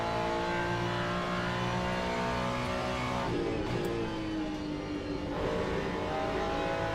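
A race car engine in the Le Mans Ultimate sim on Imola, a loud, steady high-revving drone that shifts pitch through gear changes and braking around the middle, close and continuous without talk.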